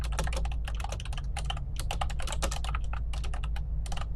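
Rapid typing on a computer keyboard for an in-game mail letter, a quick run of close, crisp key clicks in irregular bursts with short pauses, no talking.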